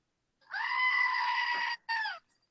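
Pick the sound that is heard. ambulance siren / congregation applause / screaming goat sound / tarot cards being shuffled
screaming goat sound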